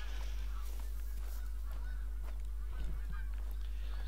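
A flock of geese honks repeatedly in a hunting game's outdoor landscape, overlapping calls at moderate distance over a constant low hum, with a faint footstep-like thud partway through.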